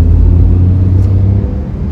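A 2020 Tata Tiago BS6 automatic's engine pulling in second gear, a loud, steady low hum heard from inside the car with no talk.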